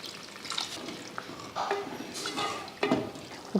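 Water splashing into a pot of kuzhambu amid light clinks and stirring sounds of kitchen utensils, close by with no talking.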